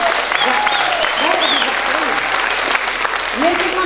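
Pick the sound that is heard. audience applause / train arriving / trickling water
audience applause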